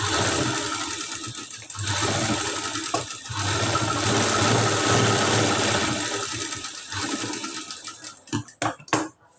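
A sewing machine runs steadily while stitching a katori blouse, a close continuous mechanical whir that breaks off briefly, resumes, and ends in a few short bursts.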